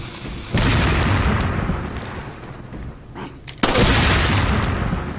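Dynamite blast in the Resident Evil 4 video game, a loud booming explosion that opens into a long roaring rumble, dips, then a second heavy burst erupts and keeps rumbling to the end.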